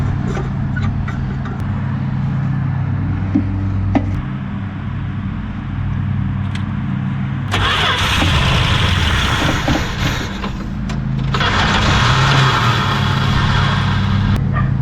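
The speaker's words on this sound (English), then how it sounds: "So we're gonna put some gas in the carburetor and see if we can't get this thing going." A 1965 Mustang restomod engine runs on gas poured into the carburetor, a loud, close, continuous low rumble that surges into two rougher, louder stretches before settling back.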